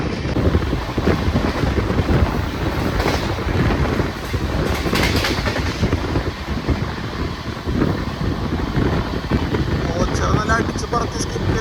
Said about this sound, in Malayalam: അപ്പോൾ അതേ ഔട്ടറിൽ കയറി വന്നുകൊണ്ടിരിക്കുകയാണ് നമ്മുടെ നേത്രാവതി എക്സ്പ്രസ്